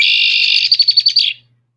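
A mated pair of birds gives a call, a loud, high sustained whistle that breaks into a quick series of about six pulsed notes before cutting off, close and alone.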